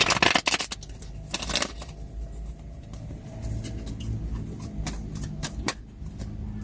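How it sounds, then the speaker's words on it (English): Tarot cards are shuffled close by, with a burst of quick riffling flutters at the start and then softer, continuous papery sliding and tapping. "Get a good shuffle."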